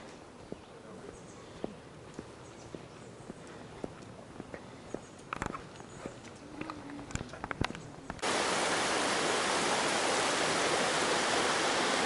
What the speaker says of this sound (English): Stream crossings on the trail, actually on the road to the trailhead to start our climb of Colvin and Blake.